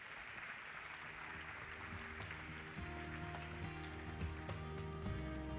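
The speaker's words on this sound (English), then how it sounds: "Please welcome them with a round of applause, if you may." An audience at a Doha conference session applauds to welcome panelists with steady, moderately quiet clapping throughout, while sustained music tones play underneath.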